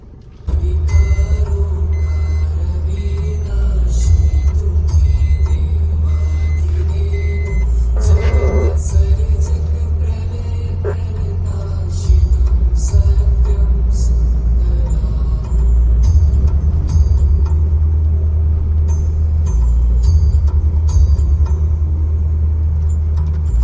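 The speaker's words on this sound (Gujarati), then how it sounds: "ડીઝલ ગાડીનો આજ પાવર બહુ ગમે" A diesel car's engine runs steadily while driving, a loud continuous low rumble through the whole stretch with small shifts in pitch and a few faint clinks on top.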